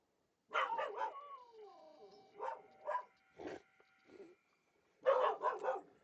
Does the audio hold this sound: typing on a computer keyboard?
no